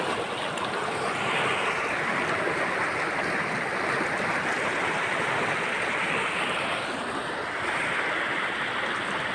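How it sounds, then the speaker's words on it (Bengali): Strong river waves of a tidal bore rushing in close by, a loud, continuous churning roar of water with wind noise over it, steady across the whole stretch and no voices. "এখানে ও প্রচন্ড আর কি ঢেউ আসছে"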